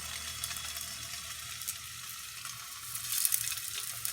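Chicken meatballs fry in olive oil in a pan with a steady, close hiss and crackle that grows slightly louder toward the end.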